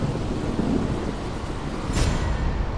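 Heavy rain hisses steadily with a low rumble of thunder rolling underneath in an animated story, one brighter crackling swell near the end, no voices.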